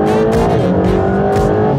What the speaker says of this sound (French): Les pneus sont supra chauds, elle patine pas la caisse